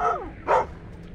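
Guard dog barking in the stealth game Thief, two sharp nearby barks a short beat apart, the first with a falling whine-like tail, alone against a quiet background.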